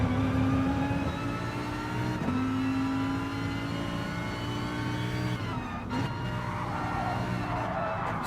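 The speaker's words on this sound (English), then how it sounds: "Nice smooth gear changes." Race car engine in the GT Sport video game, a steady high-pitched drone that drops and climbs again with smooth gear changes, loud and continuous throughout without talk.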